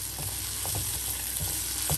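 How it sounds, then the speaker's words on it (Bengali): Fried potatoes going into a sizzling fish curry, with continuous close frying hiss and a few soft knocks and stirs against the pan. "এবার আমি এর মধ্যে ভাজা আলুটাও দিয়ে দেবো।"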